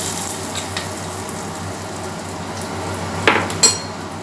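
Curry leaves and spices tempering in hot oil for a mutton gravy give a steady, close sizzle throughout, with a brief utensil clink and scrape near the end and no talking.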